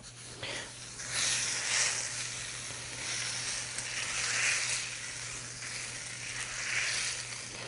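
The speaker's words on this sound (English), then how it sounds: "So when you want to listen to that sizzle, that's a nice sizzle." Steady, broad sizzling of salted and peppered steak frying in a hot pan, with crackling bursts rising and falling throughout, close and fairly loud.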